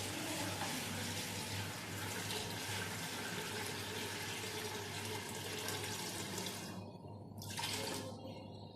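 Steady stream of milk, about 1.5 litres, poured into a bowl of sugar, flour and starch, a continuous liquid splashing and gurgling that stops briefly near the end then resumes.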